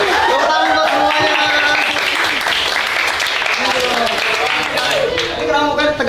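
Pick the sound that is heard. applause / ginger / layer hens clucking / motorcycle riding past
applause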